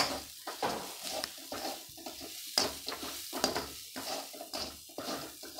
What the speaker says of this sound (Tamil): நல்லா நல்லா வதங்கணும்.